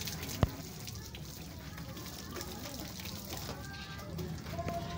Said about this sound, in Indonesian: Hari ini saya sedang mencuci motor